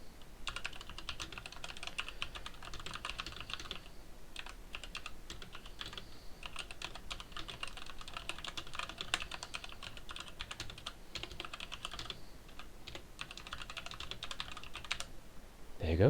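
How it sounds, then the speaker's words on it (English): Continuous typing on a Z88 mechanical keyboard with red switches, RGB lit, a fast, even patter of soft clicks with short pauses between bursts, quiet and fairly close, no talking. "Now I have a mechanical keyboard here. It's a Z88, red switch, RGB"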